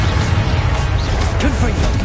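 Short burst of the Confringo explosive spell, a crashing blast with whooshing streaks, loud and close over continuous game-combat noise.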